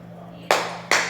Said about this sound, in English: So you're clapping twice?